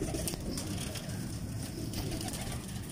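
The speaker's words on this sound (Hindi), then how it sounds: "देखें कैसे शानदार कबूतर" Crossbred show pigeons from a breeder's bloodline coo softly and continuously over a dense, close, steady background rumble, with no talking.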